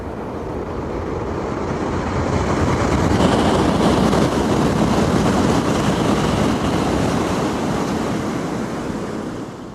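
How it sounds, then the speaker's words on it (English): A loud rushing roar swells, holds for a few seconds, then slowly fades as a Japanese bullet train sweeps past nearby under a low bridge, with no voices. "I'll show you my face reaction as I see this bullet train pass by"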